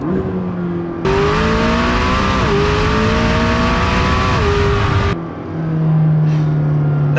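A McLaren 600LT with a stage 1+ tune revs hard in second gear toward 8000 rpm, climbing to a high scream with sharp gear shifts, then drops back to a loud steady drone, close up.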